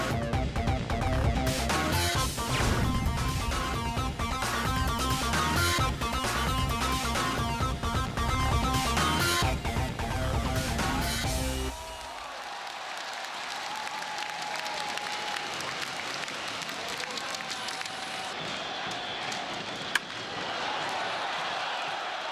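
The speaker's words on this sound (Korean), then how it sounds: "수많은 이들의 함성과 칼체가 넘치는 야구 경기장" A roaring crowd fills a baseball stadium, the noise steady and dense throughout, with heavy rhythmic thumping over the cheering in the first half before it settles into a broad, distant wash of voices.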